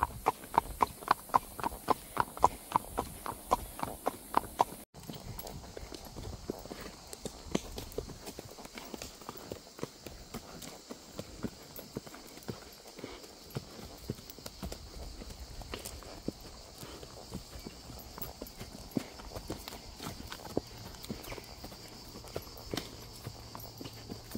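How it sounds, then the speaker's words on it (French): A horse trotting with steady, rhythmic hoofbeats, clear and close, then continuing as quicker, less even steps over a hiss of outdoor background noise. "Elle trotte pour s'arrêter, pour bouffer."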